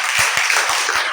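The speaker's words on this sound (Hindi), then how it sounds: "सभी तालियां बजा।" A grade 8 class of schoolchildren claps together in a classroom, a dense burst of applause with a few heavier pats audible within it; loud and close, brief, with no voices.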